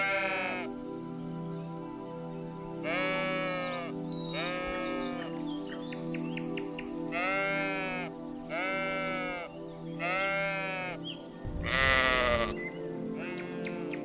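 A sheep bleats repeatedly, several wavering cries spaced a second or two apart, fairly close, over a steady low background hum, with a louder harsher call near the end.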